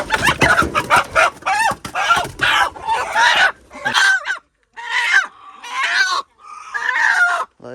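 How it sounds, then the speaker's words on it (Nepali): Local village roosters cluck and crow close by in a rapid series of loud, harsh calls, with a few short pauses between bursts. "हाम्रो घरको 3टा कुखुरा 3 दाजुभाइको यहाँ लोकल भालेहरू"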